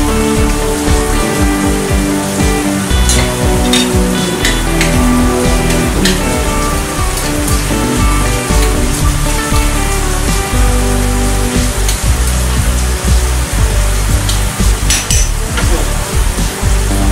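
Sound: water boiling in pot

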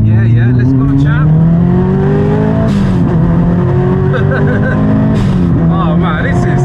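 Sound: 400hp Subaru Impreza STI Spec C engine rev-matching downshift

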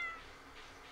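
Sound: cat meowing when petted in the video game Stardew Valley

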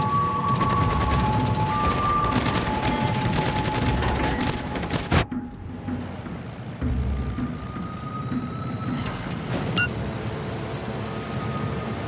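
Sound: gunfire in a naval combat video game, Kraken Unleashed

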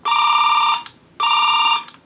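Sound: telephone ringing sound effect from Galaxy Gun II toy

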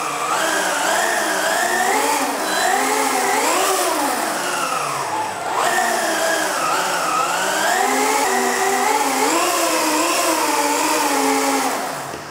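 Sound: electric vehicle starting and running

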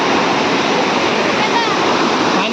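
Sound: rushing stream in flood after rain

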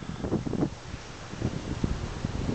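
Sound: wind blowing on microphone outdoors

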